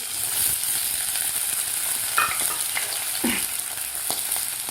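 Peeled raw potato pieces frying in hot oil for sabudana khichdi, giving a steady, close sizzle with a few light clinks and stirs of a spatula against the pan.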